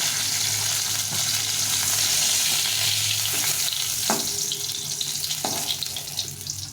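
Pointed gourd pieces fry in oil, giving a dense continuous sizzle with occasional stirring knocks and scrapes in the pan, loud and close.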